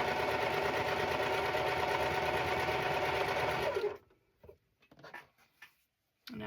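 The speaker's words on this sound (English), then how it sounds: "Now we're going to go ahead and also chain stitch" A sewing machine runs steadily at close range for about four seconds, chain stitching pieces of a Halloween and cat quilt block, then stops abruptly, leaving only a few faint handling clicks and rustles.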